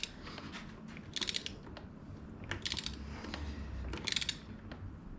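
A tool loosens an AEM super clamp on a V4R motorcycle's triple clamp, producing quiet, clustered metallic clicks and ratcheting ticks in a few short bursts.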